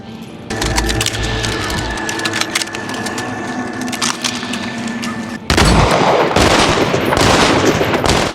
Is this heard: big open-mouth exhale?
no